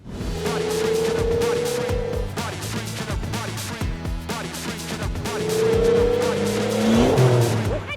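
A car drifting at an angle using the handbrake, its engine revving hard and tires squealing in long pitched screeches, loud and close throughout, with some faint voices underneath.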